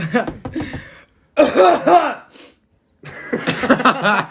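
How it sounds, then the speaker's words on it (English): A couple of short, harsh coughs or throat-clearing bursts separated by brief silences, close and fairly loud. "Sorry, I had to cough."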